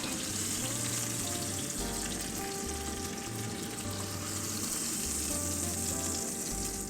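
Chicken pieces frying in oil in a pan for a tomato chicken curry, giving a loud, dense, continuous sizzle heard close up throughout, with no speech over it.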